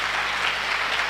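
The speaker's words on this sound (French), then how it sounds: "Acclamons pour vous" A church congregation breaks into steady, close applause that fills the room, with dense clapping throughout the brief moment and no voices over it.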